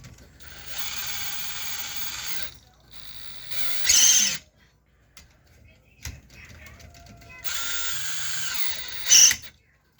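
A ratchet tightens a 10 mm bolt on a lithium iron phosphate 8-cell battery bank during a BMS repair, giving two close stretches of rapid clicking separated by a quiet pause.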